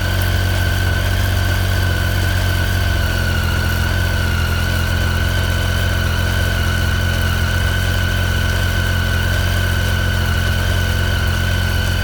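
A Triumph Tiger 800 XRt motorcycle engine idling nearby in a steady, loud, even rumble with a constant hum that holds unchanged throughout.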